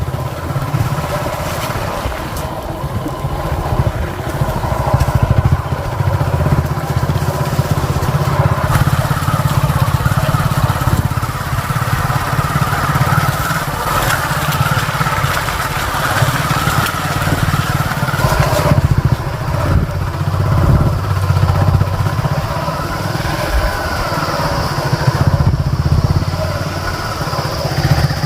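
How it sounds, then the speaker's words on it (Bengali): A motorcycle riding through a forest in Birbhum, its engine droning loudly and steadily up close throughout, with wind rumble and only scattered faint voices. "আমাদের আবার জার্নি শুরু হয়ে গেল বাইকে করে বীরভূমের জঙ্গলে ঘুরছি"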